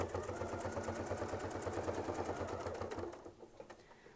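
A sewing machine stitches along a quilt border using a ruler-guided sampler setup, giving a fast, even, rhythmic needle chatter at low volume that runs for three seconds before easing off into quiet.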